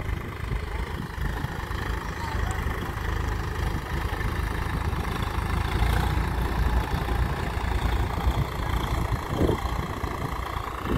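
A Swaraj 742 XT tractor idles in a farm field, its diesel engine rumbling steadily and loudly throughout, with no break in the drone.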